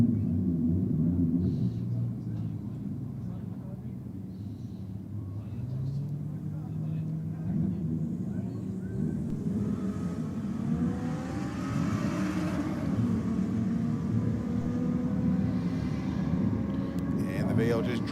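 A Turbo VL drag car runs at Sydney Dragway on a race night. A distant engine rumbles and builds in revs across the whole stretch under steady crowd and track noise, with talk heard throughout.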